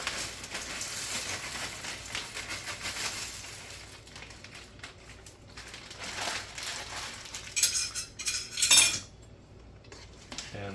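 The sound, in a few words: bag of Amish egg noodles dumped into soup pot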